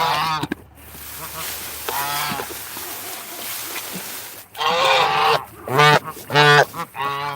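Pet geese honk loudly and close up, a steady chorus of nasal calls swelling into several sharp, rapid bursts near the end.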